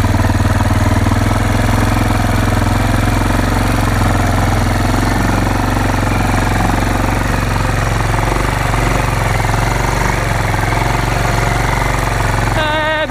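A Kawasaki KLF300 4x4 ATV engine labours loudly and steadily in first gear while climbing a hill off-road, its close, constant mid-pitched drone running with little change in rhythm for the whole stretch.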